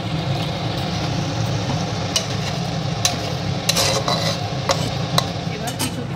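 A spoon stirs banana flower kofta curry in a pan over a steady simmering sizzle, with several sharp clinks against the pan spaced through the stirring.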